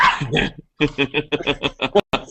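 An upset dog gives a quick run of short, close whimpering yips and barks in rapid succession after a brief opening sound, fairly loud and alone.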